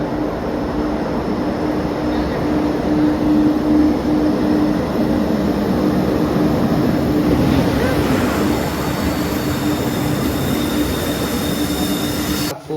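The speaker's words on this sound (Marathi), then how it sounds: "ट्रेन आलेली." Train running through a railway tunnel near Khopoli on the Lonavla line, a loud, continuous roaring rumble with a steady metallic whine, echoing close by and holding for over twelve seconds.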